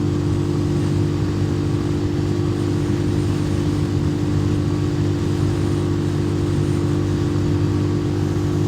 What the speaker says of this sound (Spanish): Vamos a revolucionar lo más que pueda esta moto.